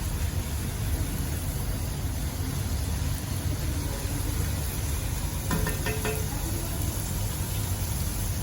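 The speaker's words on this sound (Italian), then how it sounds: "Inizia a sfrigolare." A soffritto of celery, carrot and onion sizzles in oil in a pan for Neapolitan genovese. The hiss is steady and close throughout, with a brief clink of a utensil midway.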